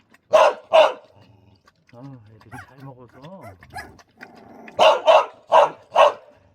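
Dogs bark loudly and close by, with a pair of sharp barks at the start and a quick volley of four near the end, while people talk in between.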